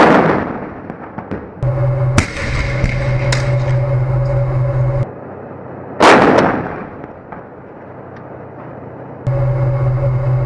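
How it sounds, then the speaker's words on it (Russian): T-72 tanks fire their cannons in combat in Syria: two sharp, booming blasts a few seconds apart over a steady engine drone, each shot trailing off in a long rumble. "Как только наблюдатели обнаруживают противника, танки открывают огонь."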